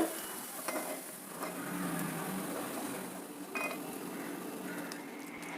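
Paddu batter cooks in a paddu pan until crisp on both sides, a soft steady sizzle at low level with occasional faint taps and scrapes of a utensil, no talking.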